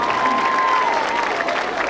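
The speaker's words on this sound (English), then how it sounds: "I'll get another huge round of applause for the Roo Band" Audience clapping at a school district spirit event for a student band, a steady wash of applause under a prominent sustained whistle-like tone that slowly glides in pitch.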